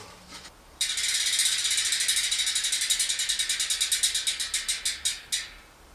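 A bicycle rear wheel hub ratchet on a conventional mountain bike hub clicks in a fast, even buzz as the wheel spins freely, the clicks slowing and spacing out as it coasts down to a stop.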